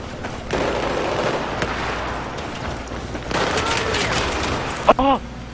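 Rapid gunfire crackles through a Battlefield 4 match on the Operation Locker map, a dense sustained burst of shots with a short loud crack near the end.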